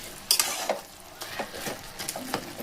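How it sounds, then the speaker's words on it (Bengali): Cabbage cooked with hilsa fish heads is stirred in a pan, giving soft intermittent scrapes and light sizzling taps at close range, fairly quiet and unhurried with no talking. "এইভাবে একটুখানি বেশ সুন্দর করে মিশিয়ে নেবেন"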